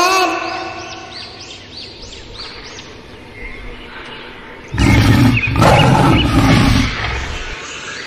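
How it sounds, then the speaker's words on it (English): A tiger roars in a long, rasping call that falls away, followed by a louder, deeper, rough bellow with a loud onset and a slowly fading tail. "T for tiger."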